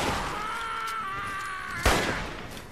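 Gunfire from several guns in Fallout 3 plays faintly, with one sharp louder blast partway through, over a steady droning game background.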